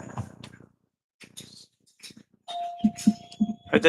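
An electronic bell rings once in a city council chamber, a clear sustained tone that holds for about a second before fading, after scattered faint murmurs and shuffling.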